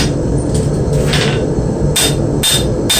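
A hammer strikes hot steel being drawn down during knife forging, landing a handful of sharp, loud, evenly spaced blows alone over a steady background roar.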